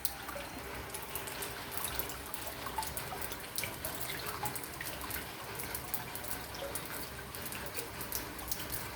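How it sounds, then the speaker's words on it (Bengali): Water drips steadily drop by drop after heavy rain near a boat on the water, a dense patter of small close taps over a constant wet hiss. "টুপটুপ করে জল পড়ছে"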